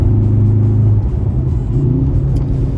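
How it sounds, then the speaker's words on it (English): Inside a 2024 Mercedes-AMG GLC43 compact SUV with its new 2-liter AMG engine, driven on rough mountain roads. A loud, steady low engine drone and road rumble carry a slight rise in pitch partway through. "the real centerpiece of this car is that new 2-liter AMG motor"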